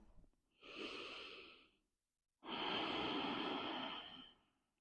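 Two long, deep yoga breaths, close and airy, come one after another with a brief silent pause between them.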